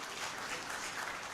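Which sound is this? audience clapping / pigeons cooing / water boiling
audience clapping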